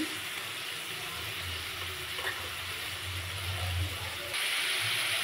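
Grated onion and garlic fry in hot oil in a pan, making a steady, dense sizzle that swells slightly louder near the end, with faint stirring scrapes underneath.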